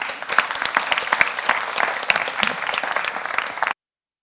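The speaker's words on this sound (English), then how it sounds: "give him a warm applause" Audience at a livestreamed launch event claps warmly, a steady dense burst of applause lasting several seconds before cutting off abruptly.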